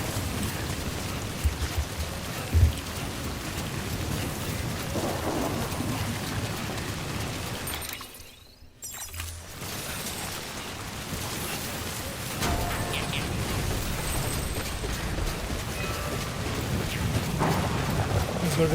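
Steady rain with a low rumble of thunder from a storm near Lake City in the video game Death Stranding, a continuous wash that dips briefly midway before returning at full strength.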